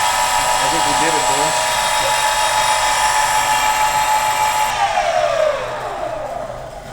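New electric skateboard motors run under a current test, giving a loud, steady high-pitched electric whine with many layered tones that holds, then drops in pitch and winds down near the end, with faint voices underneath.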